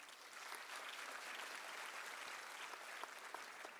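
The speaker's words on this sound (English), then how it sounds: "I think that deserves a round of applause." Steady crowd applause fills a university graduation ceremony hall in South Africa, a dense even wash of clapping sustained alone for a few seconds.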